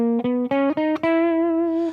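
A Lydian scale played on a bright, sustained instrument with a slightly buzzy, effected tone: several quick notes stepping upward in a run, then a long held final note.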